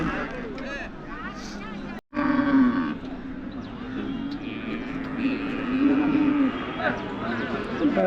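Cattle at the Namakkal weekly cattle market low and grunt amid a busy crowd, deep moos surfacing repeatedly under continuous nearby talk and general market bustle.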